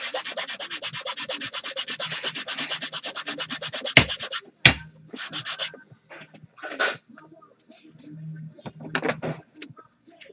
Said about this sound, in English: I'm going to cut second tooth with the file. I use a square file